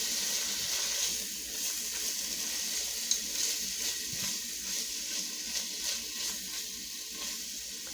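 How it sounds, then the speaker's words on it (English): Hamburger meat is stirred back into a sizzling pan, with steady frying hiss and soft scraping stirs running throughout at a moderate distance. "So next we're going to put this hamburger back in. We're going to stir that around."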